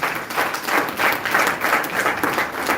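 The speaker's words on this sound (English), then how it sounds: "Do you think that deserves a big round of applause?" Audience applause at a business marketing seminar, a steady wash of many hands clapping that swells in waves and fills the room without any voices over it.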